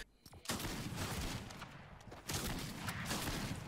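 Bursts of rapid gunfire from the video game Fortnite, loud crackling volleys separated by a brief pause, heard close without talk.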